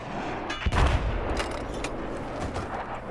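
A TOW missile launcher fires in the video game Battlefield 4, giving a heavy booming launch blast followed by a rumbling, hissing tail and a few more distant thuds, with no talking.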